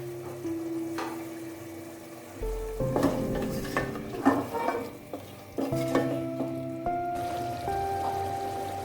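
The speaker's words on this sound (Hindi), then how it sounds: "अब हम इसमें ये सारी सब्जियां ऐड कर देंगे।" Chopped vegetables for chicken shashlik tipped into a hot pan, a loud burst of sizzling and stirring with clinks of a utensil against the pan, continuous frying throughout.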